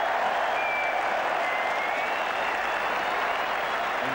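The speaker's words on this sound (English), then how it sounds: "the roars of the crowd can be" A cricket crowd at an England versus Australia test match at Old Trafford roars and applauds. The broad, steady wall of noise is loud and unbroken throughout.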